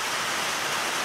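Heavy rain pours down in a dense, steady hiss that fills the whole short moment, close and loud with no voices over it.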